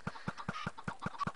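Minecraft chickens clucking, a quick even run of about seven soft, close clucks evenly spaced with no other sound.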